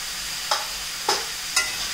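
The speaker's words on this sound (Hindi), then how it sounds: "पहले हम हल्दी और नमक के साथ इसको बहुत अच्छी तरह से भून लेंगे." Mutton pieces frying in hot oil with turmeric and salt for a dal gosht, a steady close sizzle broken by three stirring scrapes at roughly half-second intervals.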